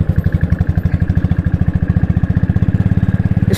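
Motorcycle riding along a slippery red mud road in hilly Taplejung, its engine chugging close and loud in a fast, steady rhythm of pulses with no pauses.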